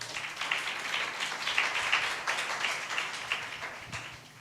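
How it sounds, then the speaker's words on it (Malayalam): Audience applause at a Kerala church anniversary celebration following an essay reading, a steady patter of many hands clapping for several seconds at moderate level, without voices. "ശ്രദ്ധിച്ച് കേട്ടവരൊന്നുകൂടെ കൈയടിച്ച്"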